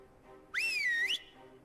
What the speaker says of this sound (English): When I blow the whistle, I expect you to come answer the call.